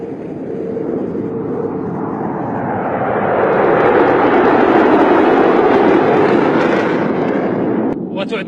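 A Boeing F-15SA fighter jet of the Saudi Falcons team roars overhead at an air show, a loud continuous broadband rumble that swells in the middle and then cuts off near the end.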